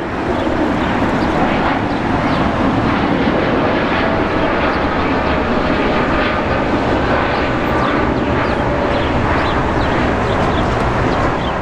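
A Qantas Boeing 787-9 Dreamliner jet taking off from Los Angeles International Airport, its engines producing a loud, continuous roar that holds steady throughout, with no talking.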